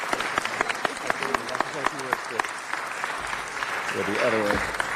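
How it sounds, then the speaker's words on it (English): Applause for an Olympian at a city council meeting, a steady patter of many hands clapping at moderate distance, with a voice speaking over it partway through. "Let's give her an amazing round of applause"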